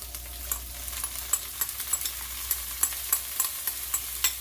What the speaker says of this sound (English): so I'm going to saute this onions, or this tuna with onions right here.